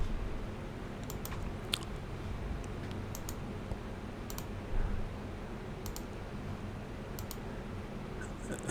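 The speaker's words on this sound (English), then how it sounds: "Sorry for the clicking noise." Faint, irregular clicks scattered over a low steady hum, light ticking like keys or a mouse, close to the microphone and never loud.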